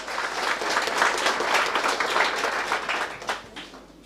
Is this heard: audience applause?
yes